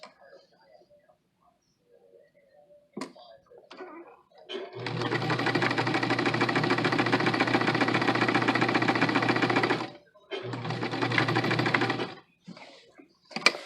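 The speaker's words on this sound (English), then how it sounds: "we are going to do a 1/4 inch basting stitch along the pocket" A sewing machine runs a quarter-inch basting stitch along a trouser pocket, a close rapid mechanical chatter in one long run of about five seconds, a short pause, then a second shorter burst, with faint handling sounds around it.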